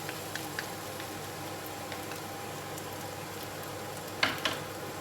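An egg fries quietly in a pan during a seafood and rice meal, a soft steady sizzle with a few faint crackles and small pops near the end.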